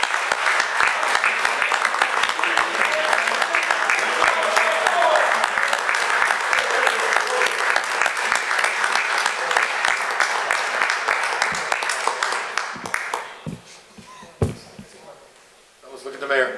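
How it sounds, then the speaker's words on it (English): A crowd applauds steadily at a town council meeting with dense clapping that holds for about thirteen seconds, then thins out to scattered claps and fades near the end. "Everyone join in applause."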